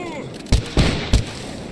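Three sharp, loud gunshots spaced roughly a third of a second apart as a magazine is dumped in the video game S.T.A.L.K.E.R. GAMMA, each with a short booming tail over a steady background hum.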